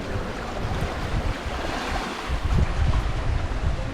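Wind on the open Atlantic Ocean aboard a sailboat bound for Cape Verde, a steady broadband rush with waves and wind buffeting the microphone, swelling slightly louder toward the end, no voices.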